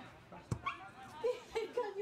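Small dog giving a few faint yips and whimpers at an outdoor football match, brief and distant, mixed with nearby speech.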